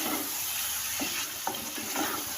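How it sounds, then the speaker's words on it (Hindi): Tomatoes and capsicum sizzle in a hot pan on the stove, a steady close frying hiss broken by a few soft stirring scrapes. "टमाटर और मिर्च थोड़ी सी भून जाए"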